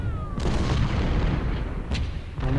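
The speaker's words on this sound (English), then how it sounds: "Run into the musket fire." Booming artillery and musket fire from the Civil War strategy game Ultimate General: Civil War, with heavy blasts and crackling volleys in a dense, loud battle din.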